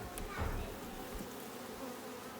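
Honeybees swarming around many stacked hives in an outdoor bee yard, a soft continuous buzz with faint background noise and brief low thumps; no clear speech.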